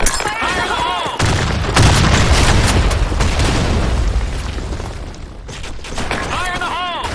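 A grenade blast in a multiplayer shooter game erupts as a loud, close boom with a rumbling tail lasting several seconds, while shouted voices are heard before and after.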